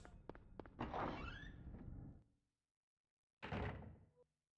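A door in the Silent Hill video game opening with a squeaky creak and thunk, a second of silence, then a heavy closing slam; the sounds are close and loud with no talking.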